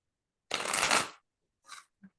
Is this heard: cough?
no